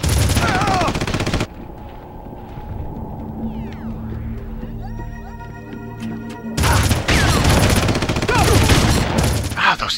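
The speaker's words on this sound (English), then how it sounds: "It's called assault rifle ammo." Assault rifle gunfire in the Red Faction shooter game, loud sustained bursts at the start and again through the last few seconds, with quieter game ambience and scattered effects between.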